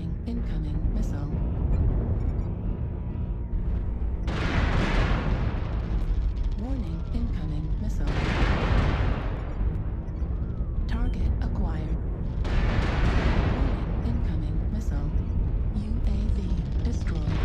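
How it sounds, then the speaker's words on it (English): Incoming missile explosions in MechWarrior Online, three long roaring blasts rolling through a constant battle din, with a voice speaking throughout. "Warning, incoming missile."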